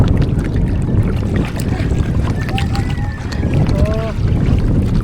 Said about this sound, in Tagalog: Wind is too. So windy.